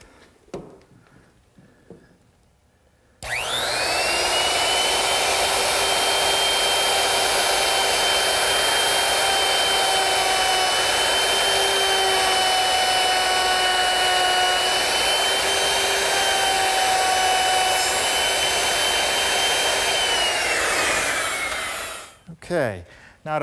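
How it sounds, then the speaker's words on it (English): A router fitted with a 5/32 ogee bit and guide bearing molds the edge of a wooden mirror standard, a loud continuous high whine starting abruptly and running steadily for about eighteen seconds before spinning down. "Now I'm going to use a OG bit, a 5/32 OG bit, which is equipped with a little ball bearing to guide it along the side of the piece."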